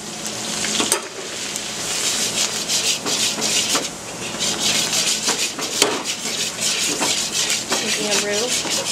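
Flour stirred into a pan with onions and garlic to make a roux, a steady close scraping and rubbing of the utensil against the pan over a soft sizzle, with occasional sharper knocks.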